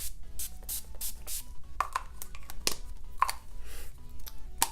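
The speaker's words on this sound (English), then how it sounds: "And then I also set my face using the Urban Decay De-Sleek Setting Spray." Several short hissing sprays from a pump bottle of Urban Decay De-Slick setting spray onto a face, spaced irregularly, close by, with faint rubbing and handling noises between bursts.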